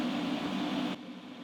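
An airbrush sprays white paint onto a 1:64 Hot Wheels 1970 Chevelle custom over candy blue, a steady close hiss that cuts off abruptly, leaving quieter room noise.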